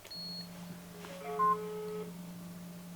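Electronic call tones pass between two mobile phones linked in a call: a steady low hum runs throughout while a short cluster of stepped beeps rises near the middle, faint and close, with no voices.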